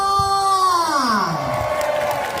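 Crowd at an indoor volleyball match raising a loud cheer, with a rising-then-falling whoop of voices up front and a clamour of shouting and clapping behind it.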